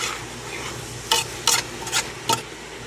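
Carrots sizzle with meat and shrimp in a pan for pancit canton, a soft steady frying hiss broken by four or five sharp close scrapes and clatters of a spatula stirring, with no talking.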